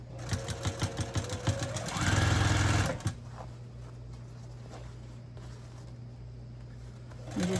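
A sewing machine stitching the seam of a fabric drawstring bag, with rapid rhythmic needle clatter, then a brief faster whir as it runs, followed by a steady low hum once it stops. Close and clear, with no talk.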